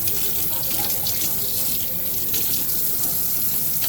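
Water runs steadily from a tap, rinsing a clear plastic essix retainer under a continuous, close splashing stream with no pause throughout.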